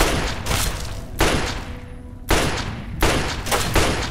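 Gunfire in Fallout 3: loud bursts of rapid shots arrive in several separate volleys, each followed by a short decaying tail, with no talking over them.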